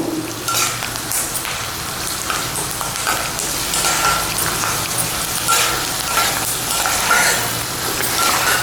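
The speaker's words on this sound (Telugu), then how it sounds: "పల్లీలు చూడండి వేగినాయి" Peanuts fry in oil in a pan while being stirred, making a loud, close sizzle with scraping and rustling from the stirring.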